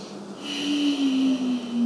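A long, steady exhale during a yoga stretch, breathed close and audibly through the nose with a faint whistling tone, lasting nearly two seconds without talk.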